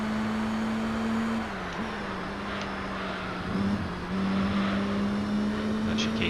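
A Toyota Altezza race car engine in the Gran Turismo 3 video game holds a steady, continuous drone, dipping briefly as if shifting or braking before climbing back, with no talk over it.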